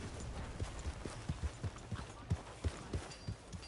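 Horse hooves clip-clop at a walk on a dirt path in Red Dead Redemption 2, a steady series of soft, moderately close thuds with no voices over them.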